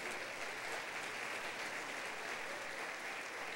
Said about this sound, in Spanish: Otro aplauso a Dios, luz de Dios.